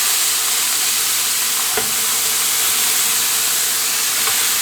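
Ground beef for a cheesesteak sandwich fries in a pan with a steady, dense hiss and sizzle, close and even, with one faint clink.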